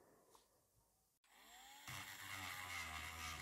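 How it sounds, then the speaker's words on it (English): Rotary tool grinding sculpted hair off a clay anthropomorphic bunny figure, a high whine spinning up after a brief pause, then a loud, sustained grinding buzz. "Yeah, I'm grinding off the hair."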